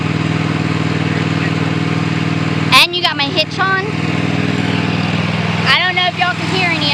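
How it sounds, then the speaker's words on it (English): A lawnmower fitted with a towing hitch idles loudly and steadily nearby, its even engine drone running unbroken throughout while people briefly talk over it. "So you fixed the lawnmower."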